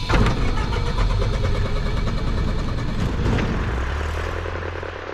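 A light training aircraft's propeller engine starts: it cranks, catches and roars up loudly, then settles into a steady, close idle drone with no talking.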